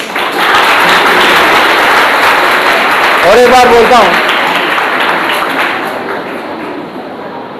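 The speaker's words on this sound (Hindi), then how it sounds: "तालियां मारो जोर से।" College students clap loudly during a motivational speech, a sustained roar of applause throughout while a voice speaks briefly over it midway.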